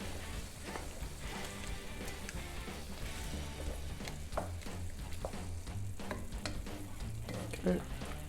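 Finely diced rosemary is stirred in a sizzling pan: a steady crackling fry with soft scraping stir strokes and a few brief clinks, fairly quiet and with no talk over it.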